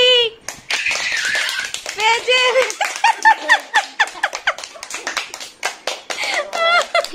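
Scattered hand claps ring out in quick bursts under lively talk from children and adults, mid-way through a blindfolded family game of hunting for a jalebi at home.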